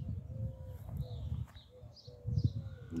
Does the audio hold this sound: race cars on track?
no